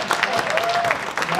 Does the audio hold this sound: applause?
yes